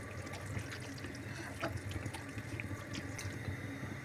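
Boiled water is poured into a pot of lobia curry and stirred, giving a continuous soft splashing and liquid trickle with faint clinks of the spoon, close and fairly quiet, with no talking.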